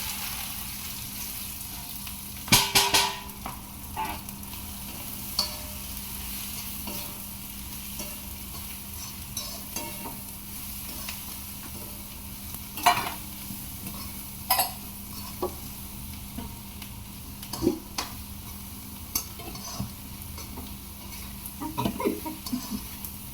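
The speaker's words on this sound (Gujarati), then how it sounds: "ટમેટો આપણે ભીંડા વઘારી દીધા છે" Okra tempered in a pan with cumin and carom seeds gives a steady, fairly quiet sizzle, broken by occasional sharp spatula scrapes and taps against the pan, with no talking.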